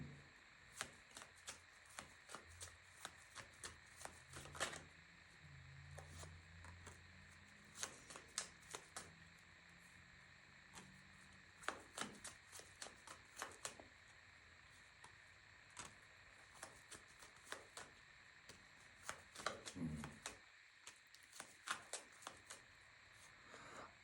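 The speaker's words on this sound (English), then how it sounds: "I decided to just shuffle on camera this time." Repeated crisp riffling and slapping of tarot cards, shuffled in quick bursts at close range, with a faint steady hum underneath.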